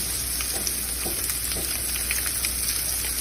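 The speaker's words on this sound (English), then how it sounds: "press it down a little to make sure you got maximum contact with the pan, so you can get all of that nice sear on that meat." Meat is pressed down and seared in a pan, giving a loud, dense sizzle that crackles evenly and close up for a few seconds, with no speech.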